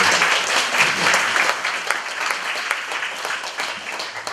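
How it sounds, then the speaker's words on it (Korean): Audience clapping in a lecture hall after a sung performance with accompaniment, a dense, even stretch of many hands lasting over four seconds, close and alone without talk. "다시 한번 박수 부탁드립니다."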